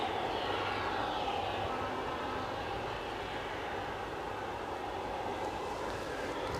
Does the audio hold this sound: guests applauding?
no